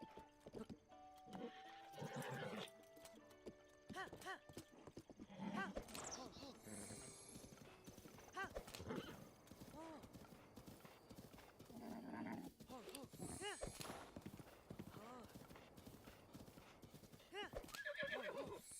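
A horse in the Zelda: Breath of the Wild video game neighs and whinnies over steady clip-clopping hooves, loud and close throughout, with a person talking over it at times.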